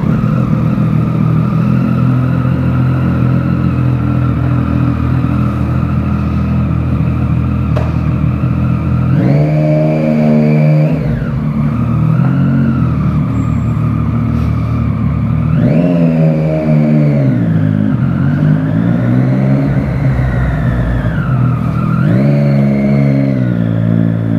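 A motorcycle engine idles loudly, then revs up in several rising and falling surges, close and continuous with no talk over it.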